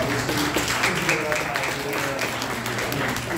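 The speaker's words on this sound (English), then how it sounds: "Give them a big, big round of applause." Church audience applauding steadily at a gospel gathering, a dense patter of many hands filling the room, with a voice faintly audible underneath.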